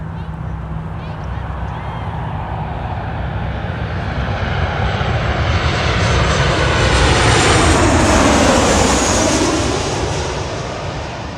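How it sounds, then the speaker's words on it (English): An Alaska Airlines Boeing 737-900 passes at Los Angeles International Airport, loud jet engine roar swelling to a peak with a sweeping whine, then slowly easing, close and dominant with no talk. "Next, we will go to the Alaska 737-900."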